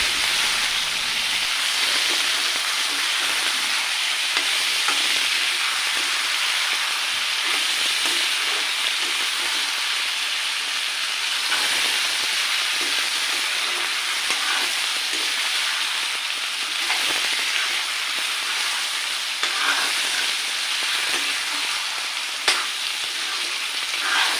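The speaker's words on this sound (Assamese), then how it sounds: "মাংসখিনি এতিয়া মই একো মছলা নিদিয়াকৈ ভাজি ল'ম" Duck meat frying in a pan without any spices, a loud, steady, dense sizzle that runs unbroken from start to finish, close up, with no voices.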